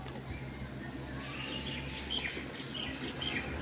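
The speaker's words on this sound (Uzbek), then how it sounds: "Manzaraga, qushlarning ovozini eshityapsizlarmi azizlar?" Birds chirp and sing faintly in the trees around an outdoor spot, scattered calls over a steady background hum of ambient noise.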